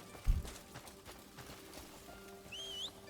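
Horse hooves clop on the ground in the video game Crimson Desert, with a heavy thud early on and a high, wavering whinny-like call near the end over steady ambient game sound.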